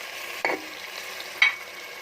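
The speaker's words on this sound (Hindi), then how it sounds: "इसको 2 मिनट्स हो गए थे आलू और मटर को फ्राई करते हुए" Potatoes and peas frying in a pan, a quiet steady sizzle with two brief scraping stirs of a spoon about a second apart.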